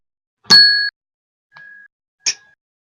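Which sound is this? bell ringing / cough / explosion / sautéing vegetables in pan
bell ringing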